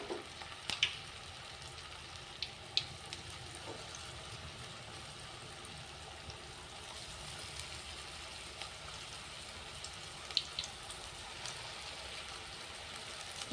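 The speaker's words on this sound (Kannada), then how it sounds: "ಉರಿ ಸ್ಲೋ ಇಟ್ಕೊಂಡು ಫ್ರೈ ಮಾಡ್ಕೋಬೇಕು." Breaded onion rings fry in oil over a low flame, giving a faint, continuous soft sizzle with occasional tiny pops and crackles.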